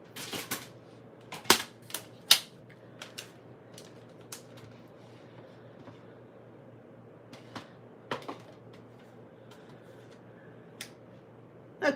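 A paper panel trimmed to size on a paper trimmer, sharp clicks and snaps scattered over a quiet background, with a few louder cutting strokes near the start and occasional faint taps afterward, close with no talking.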